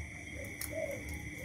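A Thai black turtle dove coos in a soft, repeating call, fairly near against a quiet background with a steady high hum and no talking.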